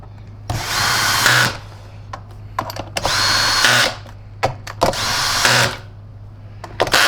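A power drill drives screws into the plastic housing of a TriStar EXL MG CS canister vacuum cleaner during repair, sounding in three sustained bursts of about a second each with short taps and clicks between, close and loud with no talk.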